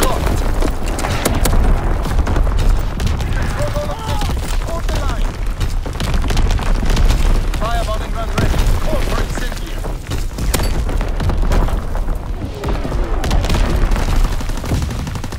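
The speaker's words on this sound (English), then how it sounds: "Artillery ready for orders. Awaiting coordinates. Firing for full effect." Artillery shells in the World War II shooter Call of Duty: WWII land in a rolling barrage of booms and crackling blasts, loud and continuous, while a radio voice talks over the explosions.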